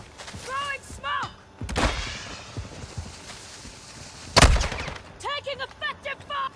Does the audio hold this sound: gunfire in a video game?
yes